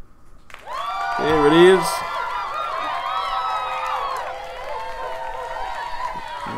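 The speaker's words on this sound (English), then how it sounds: "Let me get the round of applause up." A canned round-of-applause sound effect played during a Madden video game podcast swells with crowd clapping and cheering, peaking early then holding at a steady level, while a host's voice briefly speaks over the start.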